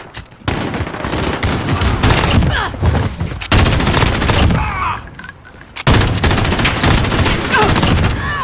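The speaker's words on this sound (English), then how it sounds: "Pretty decent LMG. It's a massively high fire rate." Rapid, sustained light machine gun fire in Call of Duty: Modern Warfare, loud and close, in long bursts with a short pause near the middle, with the gun's very high rate of fire clearly audible.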